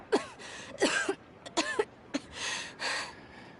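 Several short coughing bursts from a character in the video game Genshin Impact, harsh and breathy, in an uneven series of four or five fits separated by brief pauses.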